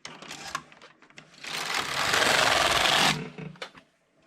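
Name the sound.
Passap E6000 knitting machine knitting a row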